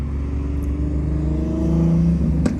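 Straight-piped Dodge Charger R/T engine droning loud and close from inside the car, with a low steady rumble that swells slightly toward the end and a brief clunk near the finish.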